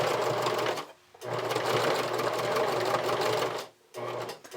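A sewing machine top stitches a folded bra extender closure in place, running in close, steady bursts of rapid stitching separated by two short pauses.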